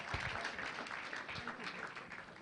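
Audience applause at an ethical living project grand finale, a soft, steady patter of many hands clapping, heard faintly from a distance.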